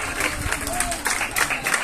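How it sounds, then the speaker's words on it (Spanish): Applause from a church congregation, a dense, steady patter of many hands clapping throughout at moderate loudness. "Bien fuerte las palmas para cada uno de los hermanos que trabajaron esta tarde"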